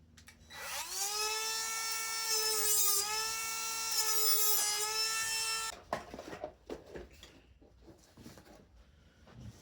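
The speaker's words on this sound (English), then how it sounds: "So now what I gotta do is cut all those little sticks." Plastic welding sticks are cut on the bumper of a Honda EK coupe. A loud, steady, high-pitched whine runs for about five seconds, then stops, leaving scattered clattering and handling noises.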